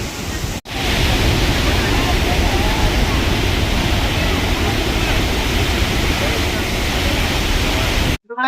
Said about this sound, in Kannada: ಅಲ್ಲಿಂದ ನೀರು ಹರಿದು ಬರ್ತಾ ಇದೆ ನೋಡಿ